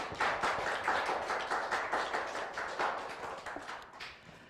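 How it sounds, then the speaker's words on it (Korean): Audience applause welcomes a speaker at a nurses' association delegates' general meeting and policy forum in Busan, a dense, steady clapping that slowly fades over a few seconds. "구경민 의원님을 큰 박수로 맞아주시기 바랍니다."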